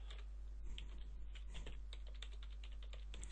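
Rapid typing on a computer keyboard while searching for a valve solenoid part in FluidSim software, with quiet, irregular clicky keystrokes over a steady low hum.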